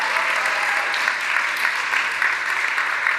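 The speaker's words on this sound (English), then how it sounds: "let's have a round of applause for that" A conference audience in Westminster Hall gives a continuous round of applause, dense and even throughout, with no voices standing out.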